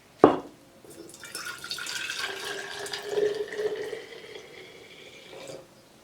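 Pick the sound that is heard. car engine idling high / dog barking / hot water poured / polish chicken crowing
hot water poured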